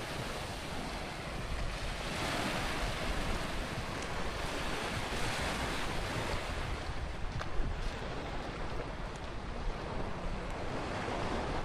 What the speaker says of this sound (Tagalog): Medyo maalon dito.